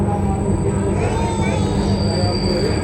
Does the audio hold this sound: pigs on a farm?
no